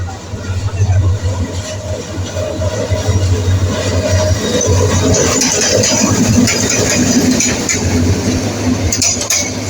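Jamalpur Express train at Tongi railway junction, a steady loud rumble with low engine drone and rail noise filling the whole stretch, a near continuous roar with some faint voices around.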